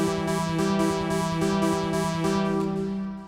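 Synthesizer plays a paradiddle pattern on a root note and minor third, rapid evenly spaced plucky hits alternating between the two pitches for about three seconds before fading, close and clean with no voice.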